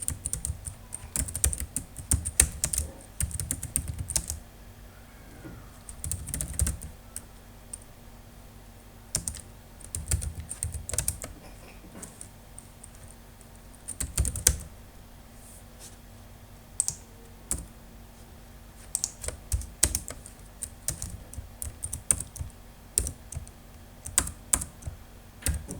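Code is typed on a computer keyboard in close, clattery bursts of key presses separated by short quiet gaps, with occasional louder thumps and no speech.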